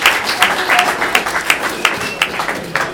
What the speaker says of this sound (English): I ask for some applause for her